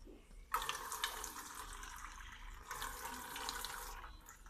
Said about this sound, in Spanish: después debes de poner agua